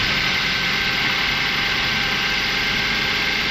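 A Toyota Rush engine idles with a steady, loud, even hum and vibration throughout, close to the listener, with no talk.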